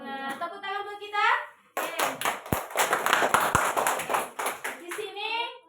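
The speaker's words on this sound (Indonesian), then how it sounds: "Tepuk tangan buat kita." A classroom of children clapping hands together, a burst of sharp, close claps with a few loud individual smacks standing out, framed by a voice talking before and after.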